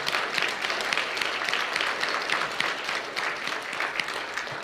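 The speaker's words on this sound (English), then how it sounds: "applause." An audience at a research and education symposium gives a steady round of applause for poster presenters, a dense even patter of many hands lasting throughout at moderate level.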